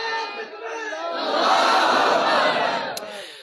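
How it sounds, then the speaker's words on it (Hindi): A large crowd at a religious gathering in Chiniot roars back the takbir slogan in unison, a loud sustained wave of massed voices that swells in the middle and then tapers. "एक बारी नारा तकबीर दा बुलंद आवाज नाल जवाब दियो"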